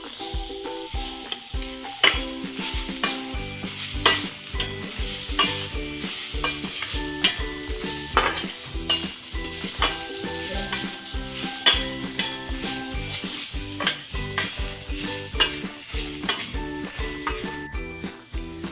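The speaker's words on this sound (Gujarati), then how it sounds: "ગાજરને આમાં 2-3 મિનિટ સુધી શેકવા દેવાનું છે।" Grated carrots roast in a pan for halwa, giving a constant sizzle with repeated scraping and stirring clatter from a utensil against the pan, close and steady throughout, with music playing underneath.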